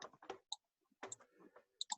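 A few quiet, sharp computer mouse clicks, spaced apart on a desk, with faint low rustling between them.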